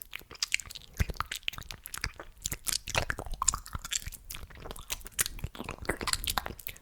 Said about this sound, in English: they're super wet and excessive, like wet mouth sounds